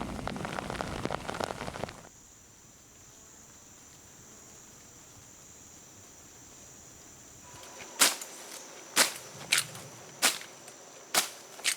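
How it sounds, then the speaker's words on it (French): Rain over the Amazon river, a dense patter at the start that stops abruptly, leaving quiet hiss, followed by a series of sharp, evenly spaced snapping hits toward the end. "la pluie est souvent de courte durée en cette saison"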